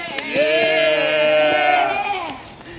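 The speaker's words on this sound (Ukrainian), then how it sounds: "Суперова коза!" A goat bleats in one long, wavering, nasal call with clear harmonics, loud and close, at a staged folk Malanka performance.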